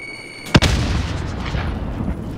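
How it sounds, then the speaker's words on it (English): Stun grenade going off in a battle-royale video game: a single sharp, loud bang followed by a lingering rumble and noisy ringing tail. "Throw that grenade. Make him push from behind there. Yeah, there you go. Make him push. Stun grenade."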